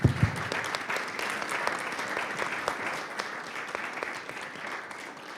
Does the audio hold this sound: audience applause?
yes